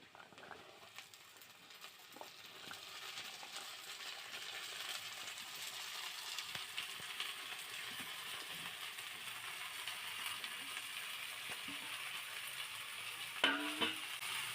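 Bitter gourd pieces and onions fry in a pan with a soft, continuous sizzle that stays faint and steady, and a few light clinks of stirring come near the end.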